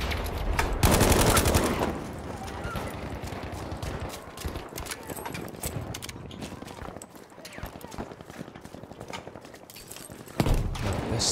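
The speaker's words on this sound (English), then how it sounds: "he's shooting through the wall" Battlefield V gunfire coming through a wall: loud burst of rapid automatic shots near the start, then scattered muffled shots and another burst at the end, with talking throughout.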